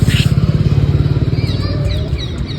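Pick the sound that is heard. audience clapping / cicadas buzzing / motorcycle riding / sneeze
motorcycle riding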